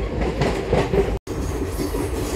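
The Tirupati to Bilaspur express train rolling past on electrified track, a loud, close rumble of wheels and rattling carriages, briefly cut off by a sharp gap midway.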